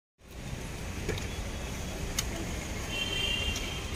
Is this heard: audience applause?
no